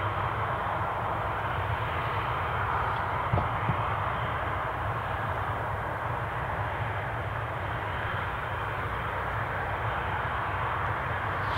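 ATR 72 turboprop airplane taxiing at Newcastle International Airport, a steady, loud engine drone held throughout with no talking.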